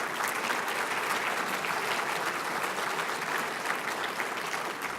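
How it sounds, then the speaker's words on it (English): A reception crowd applauds steadily at a university president's council gathering, a dense, even wash of clapping from many hands, moderately distant and sustained throughout. "we can give a round of applause"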